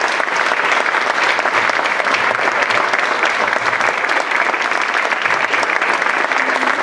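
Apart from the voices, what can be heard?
audience applause at breast cancer conference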